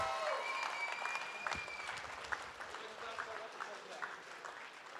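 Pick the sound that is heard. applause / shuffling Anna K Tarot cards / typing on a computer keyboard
applause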